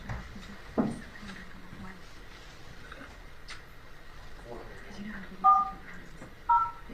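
Telephone keypad dialing tones, a couple of short two-tone DTMF beeps near the end, heard faintly over a quiet courtroom background with low rumble during a murder trial.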